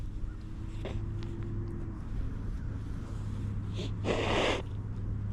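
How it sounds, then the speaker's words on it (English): A person blows their nose once, a short loud burst of snorting air rising over steady background hum and faint room noise, with no talk during it. "I gotta blow my nose or I'm gonna be dripping on the camera"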